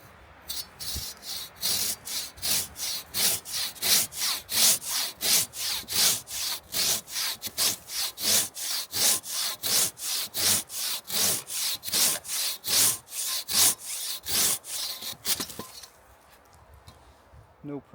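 A Silky KatanaBoy hand saw cutting through a log in fast, even back-and-forth strokes, each rasping pull loud and close, about two dozen in a row before the cutting stops.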